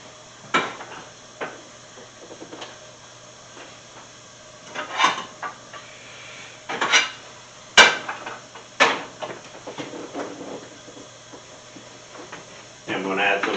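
Metal clanks and knocks as a frying pan is handled, scattered bumps and scrapes at irregular intervals, with quiet background sound.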